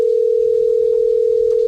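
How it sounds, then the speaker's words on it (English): A steady telephone ringback tone made of mixed 440 and 480 Hz sine waves, synthesized with SoX software, plays as one continuous loud tone with no talk, cutting off abruptly at the end. "When you call, you'll hear some sort of ring there, so you know that the phone's ringing."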